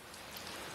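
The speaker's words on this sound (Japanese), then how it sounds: "外から叩きつけてくる雨音でラジオもよく聞こえず" Heavy rain beats down hard and steadily, a dense, continuous patter that fills the whole moment with no voices.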